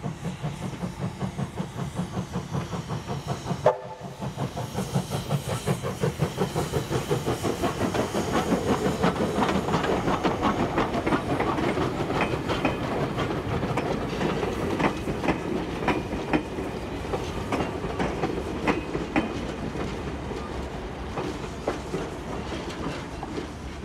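Steam locomotive 2705, built by Hunslet in Leeds, pulls into Buxton station, New South Wales, with steady chuffing, rhythmic wheel clatter and hissing steam, loud and continuous after a brief sharp knock early on.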